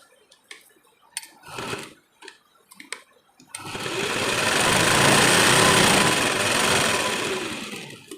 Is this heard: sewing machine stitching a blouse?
yes